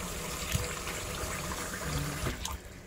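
Glutinous rice is soaked and washed in water, giving a close, continuous sloshing and trickling with a few small knocks, steady throughout before easing off near the end.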